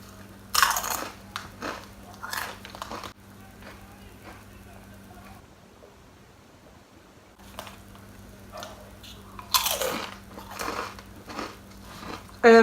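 A snack with French onion dip being bitten and chewed close up, crisp crunches standing out in a few loud bursts over softer chewing and a steady low hum.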